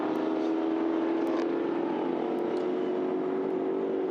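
Production race cars, a BMW and a Mustang, circuit racing in an endurance series, a steady continuous engine drone at mid distance without distinct passes, no talking.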